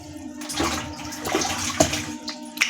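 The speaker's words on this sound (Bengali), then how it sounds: "মিনিমাম আপনাকে 4 থেকে 5 বার করে ধুতে হবে" Sliced potatoes being washed in a bucket of water, close sloshing and splashing with a few sharper splashes, no voices.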